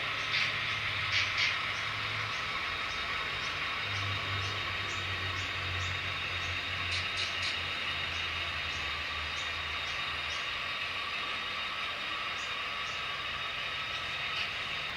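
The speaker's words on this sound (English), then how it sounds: "the train's just passing underneath Summit now" A steady mechanical whirring and clicking runs throughout as an HO scale model train rolls along the track of a layout, with a low hum rising and falling.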